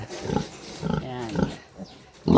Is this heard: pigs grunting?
yes